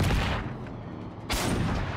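Enemy gunfire in Generation Zero, loud and roaring with a dense burst at the start, a slight dip, then another sharp volley.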